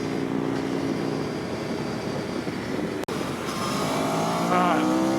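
A bagger motorcycle's engine drones steadily at moderate distance on a racetrack, a continuous rumbling roar that briefly cuts out, then rises again with a sweeping pitch climb as speed builds.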